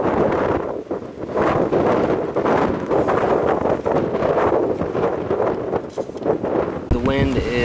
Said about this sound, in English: The wind is terrible